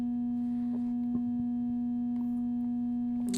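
A steady, pure sine tone from a Serge synthesizer oscillator hums continuously at about 242 hertz, with a few faint clicks and soft noises behind it.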